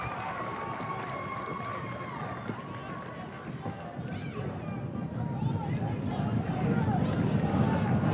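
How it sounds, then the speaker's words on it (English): A loud crowd fills a high school gym during a tied boys basketball game at Nokomis Regional High School, with a commentator talking over the noise as the roar swells louder toward the end. "Crowd very loud here at Nokomis Regional High School tonight."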